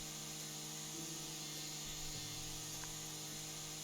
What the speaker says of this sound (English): I just didn't want to have a wobbly line when I was mowing.